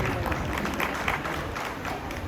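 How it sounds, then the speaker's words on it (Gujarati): An audience at a Patel community gathering in Vasai breaks into dense, steady applause. The clapping fills the short stretch evenly, with no gaps. "જોરદાર તાળીઓ છે"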